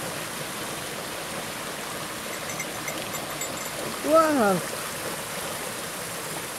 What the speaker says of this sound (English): Clear water!